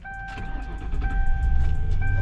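A Lincoln Town Car fitted with a new battery cranks and fires up. Its low rumble swells and settles into an idle beneath a steady electronic warning chime, heard close by.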